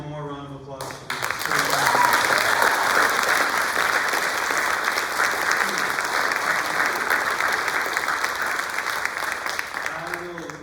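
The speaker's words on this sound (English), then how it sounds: "Let's hear one more round of applause for this." An audience at a high school literary arts event applauds loudly, a dense sustained wash of clapping that swells quickly after a brief voice, then holds for about ten seconds before tapering slightly.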